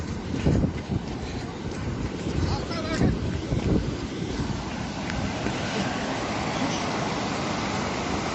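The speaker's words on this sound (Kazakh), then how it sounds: "Ана жақтың бәрі су алып отыр." Floodwater roars across land and over a bridge near Badam in Tulkibas, Turkistan region, a steady, loud broadband rush with heavy wind buffeting the microphone throughout.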